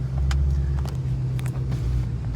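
Stock Ford Shelby GT500 idling with its factory supercharger and pulley, a steady close low rumble with a faint whine above it, heard from inside the car through an open window.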